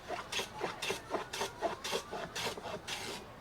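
A hand plane takes quick strokes along the edge of a wooden tenon to chamfer it, giving a soft, rhythmic rasping swish about every half second, close and quiet.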